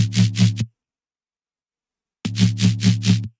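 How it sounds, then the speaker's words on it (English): A gritty, distorted synth bass made in Serum plays two short pulsing phrases separated by a stretch of silence, loud and up close. "It's a distorted bass in Serum."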